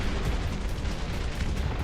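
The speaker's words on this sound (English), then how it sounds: "So I just want to see a bunch of artillery." Artillery fire in the real-time strategy game Dustfront rumbles as a dense, continuous barrage of overlapping booms and bursts, loud and unbroken throughout.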